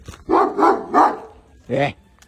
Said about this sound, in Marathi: कुत्रे बघा कसे भुकते